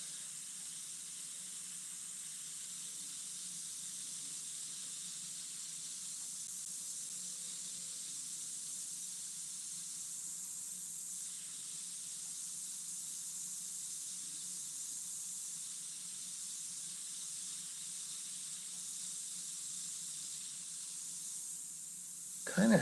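An airbrush sprays opaque paint for flames and firewood in a long, steady, faint hiss with no talking, ending in a brief louder burst.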